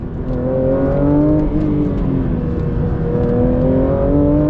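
Porsche 911 GT3 RS street-legal track car engine revving up and down, a loud, close, rasping roar with rising and falling pitch sweeps throughout.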